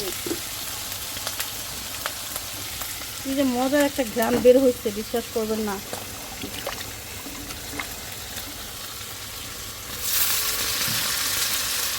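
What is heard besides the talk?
river fish frying in a pan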